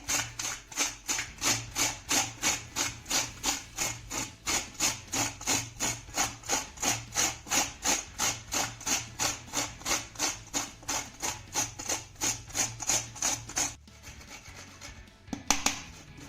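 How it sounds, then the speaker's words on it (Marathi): Bitter gourd scraped down a large grater in steady, rhythmic strokes, about two or three per second, close and clear for most of the clip before the grating stops and a few scattered knocks follow. "आपण आता हे कारलं किसून घेऊया हे बघा अशा पद्धतीने आपल्याला हे कारलं किसून घ्यायचं आहे"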